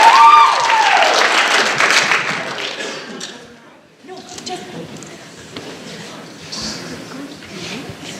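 An audience at a coffee house performance claps loudly for about three seconds, then the applause thins and dies away. Quieter room noise and voices follow.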